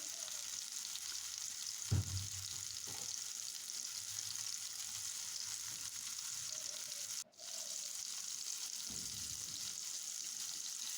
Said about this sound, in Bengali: এখন নেড়ে চেড়ে দিয়ে পেঁয়াজটাকে ভেজে নিব।